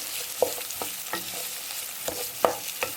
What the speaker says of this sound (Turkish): Biberlerimi de aynı şekilde biraz kavuruyorum